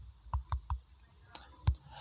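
Light taps on an Android phone screen while typing an app name into a search box: three quick evenly spaced clicks, a pause, then two more taps, close and fairly soft.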